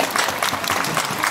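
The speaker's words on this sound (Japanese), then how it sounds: "一つ拍手の一つをしてくださいまし" Brief burst of audience applause at an Awa Odori dance performance during a street festival in Soka, Japan, a brisk, dense clatter of many hands close by, lasting just over a second.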